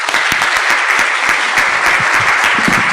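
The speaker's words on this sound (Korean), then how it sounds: "이영진 교수님께 큰 박수 부탁드립니다." An audience at a lecture or academic event gives a professor sustained, dense applause, steady and loud throughout with many hands clapping at once.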